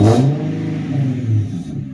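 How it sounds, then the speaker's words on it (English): An Infiniti G37 car engine roars up sharply, then settles into a steady, loud idle rumble close by. "Give it a couple revs."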